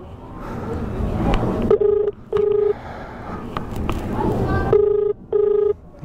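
Touch-tone telephone keypad beeps while a call is placed: four short, steady tones in two pairs, each lasting under half a second, sounding clearly over noisy background activity and voices.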